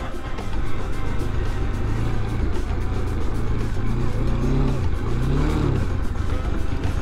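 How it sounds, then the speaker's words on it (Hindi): Motorcycle engine droning steadily in second gear on a rough mountain pass road near Zojila, a continuous close rumble with wind noise and slight pitch shifts as the bike climbs, no talk. "और अभी पहले दूसरे गियर में बाइक चला रहे हैं हम।"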